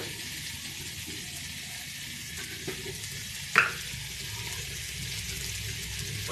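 Ginger garlic paste sizzling in a pan for Palakkad chicken kuruma, a steady quiet hiss with occasional stirring scrapes and one sharp clink.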